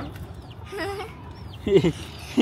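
Chickens cluck in a few short bursts over a steady farmyard background, with a louder cluck near the end.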